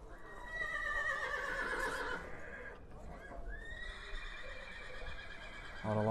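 Horses at a livestock market in Sokuluk give long, loud whinnies close by, one drawn-out neigh followed by another, with faint hoof clatter near the end.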